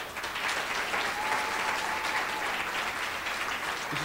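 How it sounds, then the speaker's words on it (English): Steady audience applause for an ASA member about to perform a cultural song at an academic pride ceremony, a dense, even wash of clapping lasting the full stretch without talk over it. "So can you give her a round of applause?"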